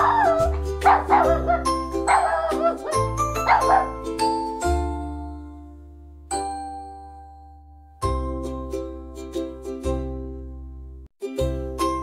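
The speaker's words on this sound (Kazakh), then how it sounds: "Ит пен күшік." A dog barks repeatedly in a children's word-learning sequence, with loud, close barks mixed with bright chiming ding tones and a few quieter gaps.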